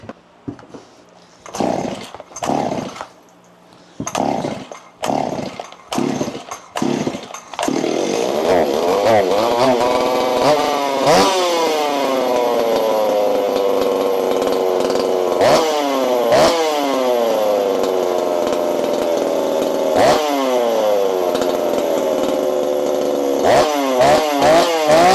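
A Stihl 026 (MS260) chainsaw is pulled several times with sharp, sputtering cord tugs, then catches and roars at high revs, the engine note rising and settling into a loud, close, steady whine with brief throttle blips.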